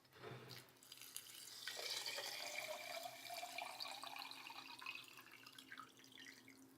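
Tap water pours into a bottle holding about an inch of Himalayan salt, a steady close splashing rush whose tone shifts as the bottle fills, with no talking.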